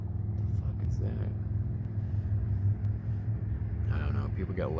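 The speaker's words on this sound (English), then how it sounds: "People got loud cars." A loud car rumbles past outdoors in a park, a heavy low engine drone filling the whole moment, with faint voices murmuring over it near the end.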